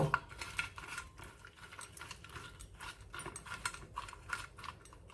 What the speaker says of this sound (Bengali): একটু হলুদের গুঁড়ো, দিয়ে ভালো করে মাখিয়ে নেব